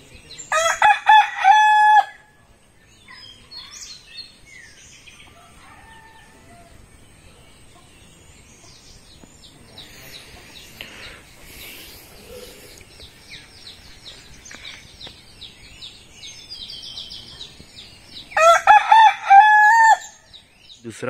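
A rooster crows loudly and close by at dawn in a Konkan village, two full crows separated by a long stretch of quiet morning ambience with faint distant birds.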